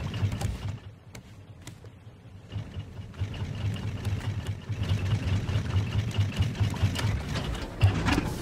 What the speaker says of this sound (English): One good thing about having engines is you can back up.